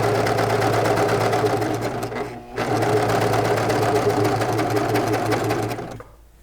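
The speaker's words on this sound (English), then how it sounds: "when you're sewing around a curve, you want to make sure that you're not stretching your fabric" A sewing machine runs steadily as it stitches pajama pant fabric around a curve: a loud, continuous mechanical whir with a brief pause near the middle before resuming, then stopping at the end.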